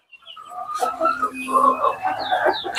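Clucking from a four-month-old hen on a poultry farm, nearly laying age, close by and continuous, with voices talking alongside.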